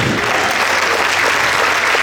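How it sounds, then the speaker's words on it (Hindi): Loud, steady applause from a gala night audience fills the hall, dense and unbroken throughout with no voices above it. "असली तालियां बजनी चाहिए इन लोगों के लिए"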